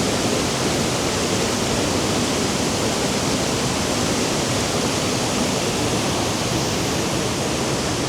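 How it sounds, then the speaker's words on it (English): The triple cascade waterfall in Wicklow roars in a steady, unbroken rush of white water, full and close, with no voices over it. "the waterfall. Triple cascade waterfall,"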